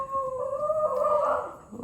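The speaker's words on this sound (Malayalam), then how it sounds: "ഇഷ്ടം പോലെ നായ്ക്കളാ." A dog howls in one long, drawn-out rising and wavering tone, close and fairly loud, trailing off into a lower whine at the end.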